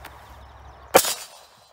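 A single sharp crack from a CZ82 pistol firing 9x18 Makarov full metal jacket ammunition, brief and moderately loud, with a short fading tail in otherwise quiet surroundings.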